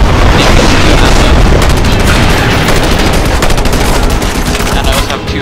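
Dense, continuous gunfire from a one-handed weapon in Just Cause 2, loud rapid shots packed together with booming impacts across the whole stretch, no pauses.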